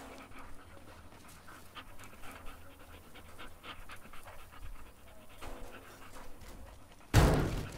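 A dog pants in rapid, steady, moderately faint bursts during a chaotic teardown game session, ending with a sudden loud slam-like burst near the end.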